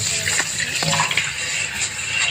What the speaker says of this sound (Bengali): এই যে প্রতিবার থালাবাটি ধোয়া হচ্ছে